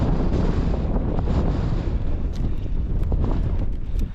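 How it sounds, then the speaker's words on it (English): Strong, steady wind buffets the microphone on an exposed hill path in Snowdonia, a loud continuous rumbling roar with gusty surges and no pauses. "we're going straight into the wind as well, which is not ideal"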